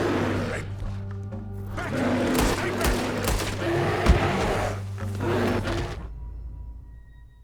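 Gunfire in Red Dead Redemption 2 during a bear encounter, a rapid cluster of loud shots mixed with growls and shouting voices, then trailing off into quiet.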